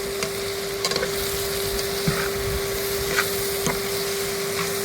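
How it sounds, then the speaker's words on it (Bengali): Whole cardamom, dried red chillies, bay leaves, cumin and garam masala crackle in hot oil. The sizzle is steady over a constant hum, with a few light taps and clicks and no talking. "আমি এলাচ, গোটা এলাচ, গরম মশলা, শুকনো লঙ্কা, তেজপাতা, গোটা জিরে ফোড়নে দিয়েছি"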